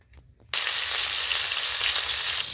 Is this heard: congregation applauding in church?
no